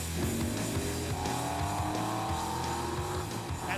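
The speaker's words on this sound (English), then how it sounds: "So for this first race, it's gonna be Badler and his Space Mobile and Jason in a man's car, the 66 Mustang." Cars racing head to head, one of them a 1966 Ford Mustang, their engines roaring loud and steady with rising revs and a hint of tire squeal throughout.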